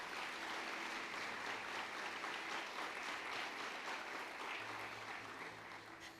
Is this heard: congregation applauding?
yes